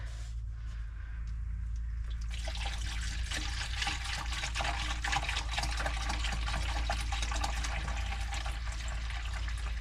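Vinegar pours steadily into a metal fuel tank that is being treated for rust, making a continuous close gurgling, splashing fill sound that grows fuller after a brief quieter start, with a low hum underneath.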